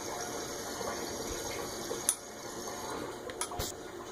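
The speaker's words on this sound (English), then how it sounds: "Now it's just pumping water straight through." Water is pumped through reverse osmosis sediment filters and out into a drain, a steady close rushing flow with a pump hum and a few small clicks.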